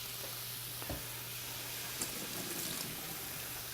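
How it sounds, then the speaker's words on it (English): Mushrooms fry in a pan with a steady, soft sizzle and a few light stirring clicks, heard alone at a moderate distance. "mushrooms in here now. So just keep cooking those through."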